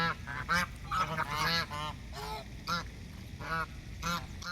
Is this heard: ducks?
yes